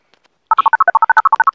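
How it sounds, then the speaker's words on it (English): A telephone being dialed: a rapid, loud run of about fifteen evenly spaced keypad tones following two faint clicks, with no talking over it. "I'm dialing."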